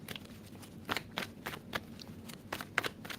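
Tarot cards riffle and snap in a series of quick, crisp bursts, close up, with brief pauses between and no talking.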